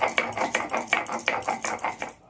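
Mustard seeds ground into paste on a stone shil-nora, a steady rhythmic rubbing and knocking of the grinding stone, repeated strokes about three per second, close and clear.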